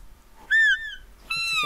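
An animal caller device in the hunting game theHunter: Call of the Wild gives two clear, close, whistling bird-like calls, each a sliding tonal note, with quiet gaps and no talk.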